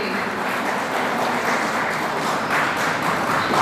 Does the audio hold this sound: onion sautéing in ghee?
no